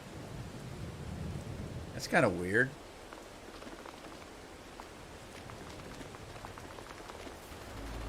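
Steady rain hissing in Farming Simulator 22 on a French farm map, continuous broadband patter throughout, with a voice talking briefly over it.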